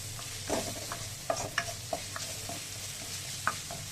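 Ginger and garlic fry in a pan with a steady sizzle, broken by occasional sharp scrapes and clicks of stirring. Close and fairly loud, with no talk.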